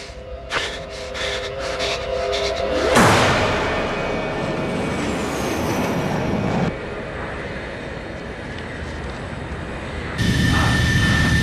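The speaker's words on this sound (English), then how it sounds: "Get in the fucking plane!" An airplane's engine roars steadily at close range in a wartime escape scene. The loud, continuous drone shifts in intensity a couple of times and has no talking over it.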